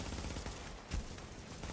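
Quiet bursts of light machine gun fire in The Division's Dark Zone, a rapid rattle of shots with one louder crack near the middle, somewhat distant and faint.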